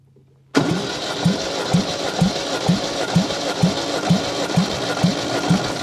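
An MGB engine cranks over during a compression test after long sitting, a steady rhythmic chug of about a dozen even compression pulses roughly two per second, loud and close, with no speech.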